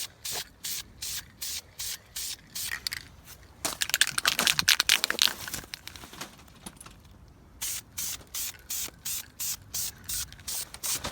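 Flame-proof header paint goes on in a light coat from a spray can: short, evenly pulsed hissing bursts, a denser stretch of rattling spray in the middle, then the regular bursts start again.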